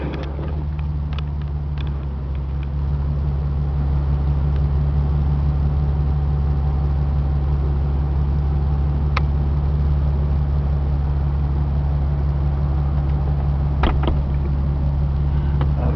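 A steady low mechanical hum as the power convertible top of a white 2005 Ford Mustang operates, with a few faint clicks and knocks over the constant drone.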